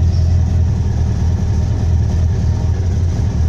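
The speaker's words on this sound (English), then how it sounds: "Okay, engine's running." A car engine fitted with a CB Performance Gen4 EFI fuel injection system idles steadily at close range, a continuous low rumble with no revving or talk over it.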